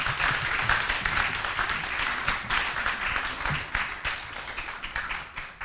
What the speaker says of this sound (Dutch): Applaus graag.